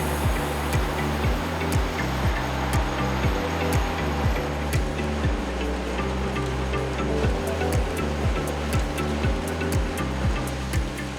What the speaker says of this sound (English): So we're getting them on this belt and they're gonna get dunked into the washer.